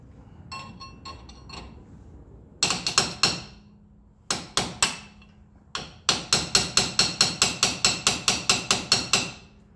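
A light hammer taps shims into a limited slip differential on a 2018-2020 Ford F-150, sharp metallic strikes coming first in a few short bursts and then as a steady run of evenly spaced blows, close with no talking.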